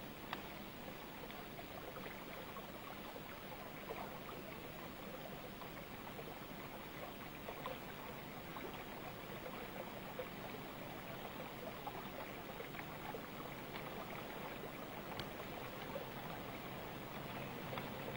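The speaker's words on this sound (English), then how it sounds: "Melting snow feeds this little roadside waterfall." Small roadside waterfall fed by melting snow in a timber town in West Gippsland, Victoria, giving a steady, even rush of falling water that stays faint and unchanging throughout, with no voices.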